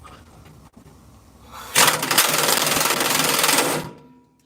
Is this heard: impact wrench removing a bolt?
yes